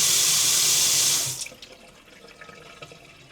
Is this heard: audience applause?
no